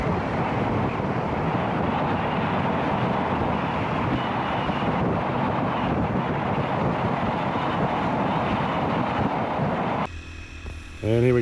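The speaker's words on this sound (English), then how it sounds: "I'll just let you listen to the beautiful sounds of nature as we rip through it on our 450 motorbikes." Riding 450cc dirt bikes, including a Husqvarna, along Black Mountain Road, with a dense, continuous engine roar and heavy wind buffeting on the onboard microphone, ending in a brief change of sound near the end.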